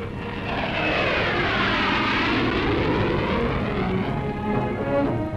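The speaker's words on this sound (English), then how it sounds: "And a flying test bed for the Olympus turbojet," An Avro Vulcan flying test bed with Olympus turbojet engines passes overhead at the 1968 Farnborough airshow, a loud, sustained jet roar with sweeping, shifting tones as it flies by.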